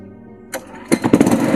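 A fairly new engine is cranked and catches, a brief mechanical whir followed by a rough, sputtering run that grows louder and steadier at close range.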